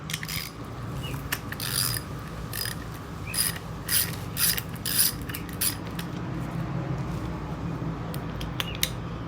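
A ratchet tightens a skateboard part with repeated quick clicking bursts, faint and close, over a steady low background hum.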